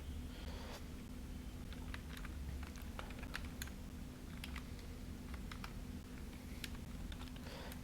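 Quiet typing on a computer keyboard, a loose run of light key clicks and taps spread across several seconds over a faint steady background hum.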